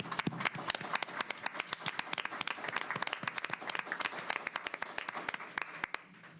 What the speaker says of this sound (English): we need to give those schools a round of applause